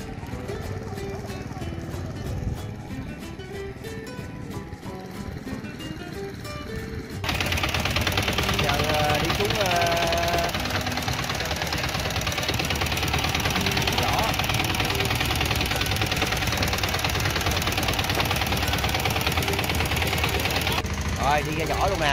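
An old boat engine chugs at a fishing village on the Vietnamese coast, a loud rapid knocking putter that grows louder and steadier after the first few seconds, with voices faintly underneath.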